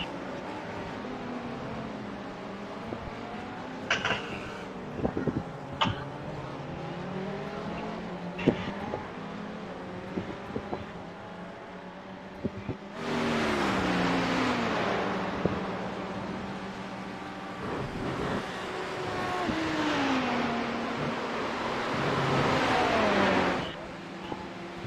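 Race cars in the iRacing sim at Spa during an open practice for the 24 Hours, engines droning and shifting pitch as several cars pass and rev, with louder bursts of passing traffic in the second half and talk over the top.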